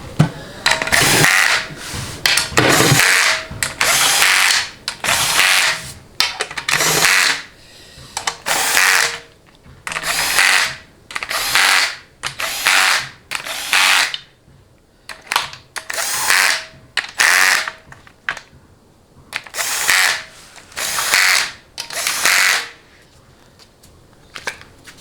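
Power tool driving 10 mm bolts on a Ford AOD automatic transmission during assembly, heard as repeated loud bursts of whirring and ratcheting, each a second or two long, separated by short pauses, close up with no talk.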